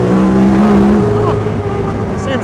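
A Talon side-by-side runs in all-wheel drive high gear, its engine droning loud and close with a steady, shifting pitch and rough mechanical rumble.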